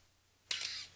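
A Canon FD camera shutter, in excellent condition apart from the dreaded squeal, fires once after a near-silent lead-in, giving a sharp, close click followed by a sustained high squeak that fades away.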